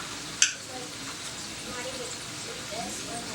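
Fleischkuekle, meat-filled dough pies, frying in a pan of oil with a steady hissing sizzle throughout and a sharp tap near the start, close by.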